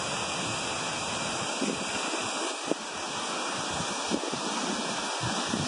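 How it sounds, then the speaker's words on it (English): A waterfall seen from an observation point near Chattanooga makes a steady, loud rushing wash of water, constant and broadband, with faint wind and rustling mixed in. "And then right there's the waterfall."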